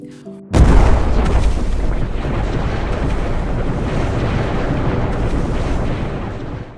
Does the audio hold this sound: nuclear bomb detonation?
yes